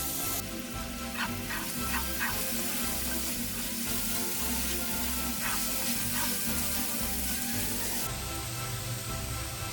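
Onions, salt and curry leaves sizzle steadily in hot oil while being stirred and sautéed, a continuous loud frying hiss with occasional scraping strokes of the spoon against the pan.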